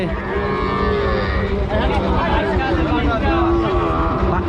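Calves and bulls mooing at a Rajshahi cattle market, long loud lowing calls close by over a constant hubbub of buyers and sellers talking.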